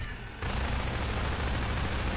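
Sustained submachine gun fire in Half-Life 2, a steady stream of rapid shots beginning after a brief pause and continuing loud and unbroken to the end.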